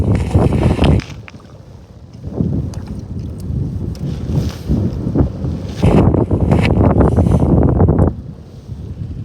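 Strong gusty wind roars outdoors during ice fishing, buffeting the microphone in loud surges that ease briefly before building again, with no talk.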